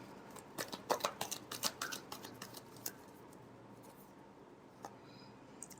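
Tarot cards being shuffled for a love reading, a rapid series of close, soft riffling clicks at the start that slows and fades into quiet room tone.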